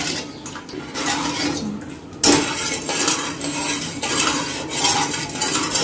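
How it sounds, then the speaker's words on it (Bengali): A pot of sugar syrup for jalebi being stirred, with a spoon scraping and clinking steadily against the metal sides, close and fairly loud, with one sharper knock partway through. "নাড়িয়ে চিনিগুলো গুলে দেবো, যাতে তাড়াতাড়ি চিনিগুলো গুলে যায়।"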